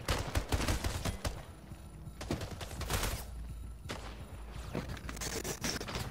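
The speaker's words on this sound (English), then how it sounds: "I just shot him in the head like John Wick" Gunfire in the Splitgate video game comes as a dense, loud burst of rapid shots and clattering action sounds that fills the whole stretch.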